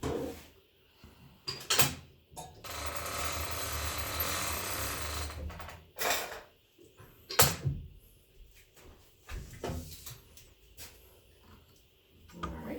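Longarm quilting machine rolls a basted quilt forward on its frame, giving soft scattered clunks and knocks, with a steady low whirring stretch partway through, faint and quiet overall.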